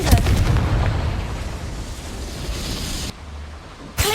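A Confringo fire spell bursts in the Hogwarts Legacy video game, a loud roaring blast of noise that rumbles and fades, drops away suddenly, then flares again in a brief final burst.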